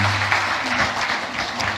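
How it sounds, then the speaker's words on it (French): A church congregation applauding to welcome a guest, a brief, dense patter of clapping heard close and continuous throughout, with no voices standing out. "Est-ce qu'on peut l'applaudir?"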